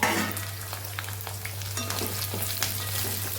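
Green chillies with fenugreek cook in a covered pan as a Kathiyawadi winter side dish, giving a steady, even sizzle with faint crackles and a low constant hum beneath, with no talk.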